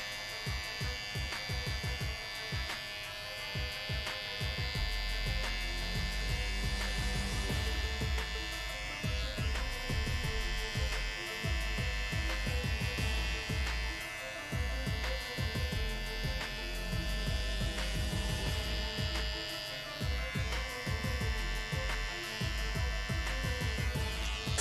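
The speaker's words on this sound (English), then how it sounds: "Now I'm going to use the T-point of my trimmer to connect the vertical to the horizontal section" Electric hair trimmer buzzing with a steady mains-like drone while cutting around the temple and ear for a women's faux hawk, constant and close, with brief dips in tone as the blade meets hair, no talk.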